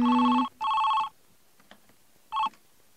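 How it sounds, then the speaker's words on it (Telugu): An electronic telephone ring sounds as a call is placed: two close buzzy tone bursts, a pause, then a shorter third burst, loud and near with quiet between. "నువ్వు ముందు సోనా డార్లింగ్కి ఫోన్ చేసి గుడ్ మార్నింగ్ చెప్పు"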